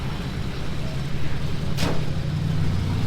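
A four-cylinder Model 8 Roadster runs at a hill climb festival in Newport, Indiana, its engine a low steady rumble under broad outdoor noise, with a brief sharper burst midway.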